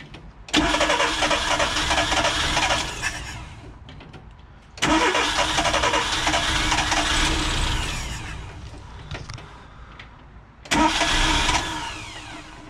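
Small engine with a freshly cleaned carburetor being started, three separate bursts of loud cranking and sputtering running that fade between attempts, close and without talk.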